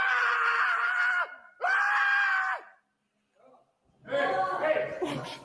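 A man screams loudly inside a building in two long sustained bursts, then a rougher, wavering yell after a brief pause.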